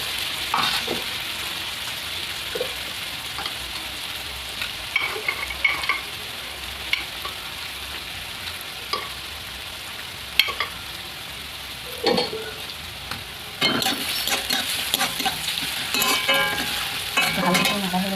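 Garlic fries in a pan with onions while being stirred lightly, giving a steady sizzle with scattered scrapes and utensil clinks that grow busier near the end.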